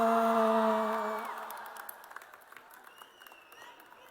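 A sustained musical chord fades out, and then scattered applause rises from the audience at a film festival gala in Kolkata, with light claps and a few whoops, thin and fairly distant.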